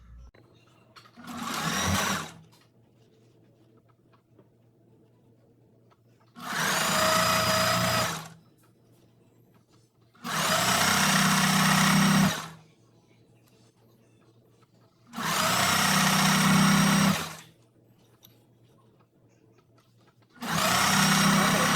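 A sewing machine set to a long, wide straight stitch runs a ruffle sock in five loud, close bursts of steady whirring, each about two seconds long, with near silence between them.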